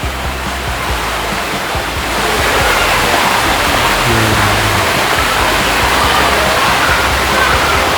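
Waterfall at a riverside temple garden, a steady broad rushing roar of falling water close by, getting louder after the opening seconds.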